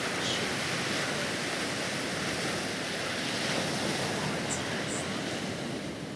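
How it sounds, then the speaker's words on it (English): Ocean surf rolls onto a shore, a steady, dense wash of breaking waves with a wind-like roar that never lets up. "you can hear the waves crashing on the shore."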